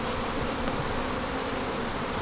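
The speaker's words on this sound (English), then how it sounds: "here you can see the bees coming up through the central feed hole and going down to the syrup" Honey bees buzz steadily at a beehive feeder, climbing through a central feed hole down to sugar syrup; a dense, continuous close-up drone with no voices.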